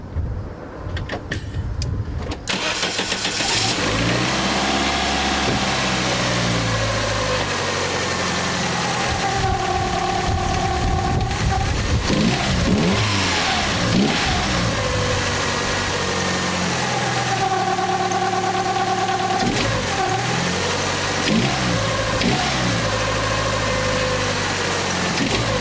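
Chrysler 2.5 car engine, just rebuilt with its balance shafts removed, cranks and catches, then runs at a steady, loud idle with some shifts in revs, heard close with no talking.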